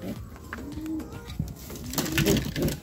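A racing pigeon coos in soft, repeated throaty calls, fairly close, over a faint background of rustling and other bird sounds.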